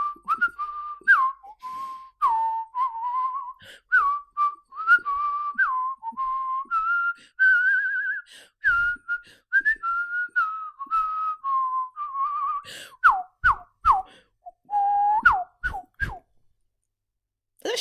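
A melodic whistled rendition of the F1 intro tune, bright and steady, with a few sharp rising notes toward the end before it stops abruptly.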